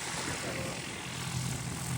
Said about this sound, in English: A little airplane action.